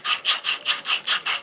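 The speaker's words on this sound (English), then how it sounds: "start grinding in" Valves on an Austin Seven engine being ground into their seats with a tool, giving seven even, rhythmic back-and-forth rasping strokes, close and loud.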